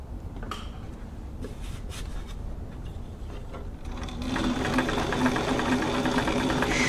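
A Brother VX757 sewing machine runs a test stitch after reassembly, set to straight and zigzag stitching. Its close, continuous mechanical whirring grows noticeably louder and busier partway through.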